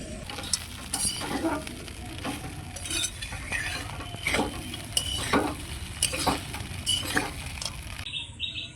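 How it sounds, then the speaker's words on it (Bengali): Poha is stirred and mixed in a pan, with a spoon scraping and clinking in repeated irregular strokes over a low sizzle, close and steady throughout. "এখন ভালোভাবে মিশিয়ে নেব।"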